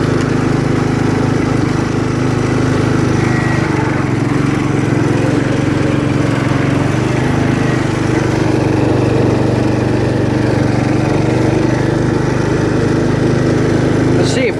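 A 1968 John Deere 110 lawn tractor runs with its mower deck unhooked, its small engine droning loudly and steadily up close for the whole stretch with no change in pace.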